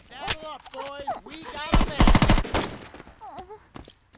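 Gunfire in the video game Saints Row 2, with shots in quick succession rising to a dense rattling burst, loud and close and mixed with speech.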